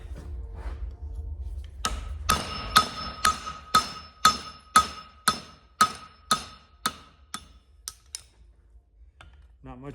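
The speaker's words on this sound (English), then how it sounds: "I'm just going to cut these horseshoes on an anvil hardy" Hammer blows on steel horseshoes over an anvil hardy, about fourteen sharp metallic strikes in a steady rhythm, ringing and close, slowing and fading toward the end.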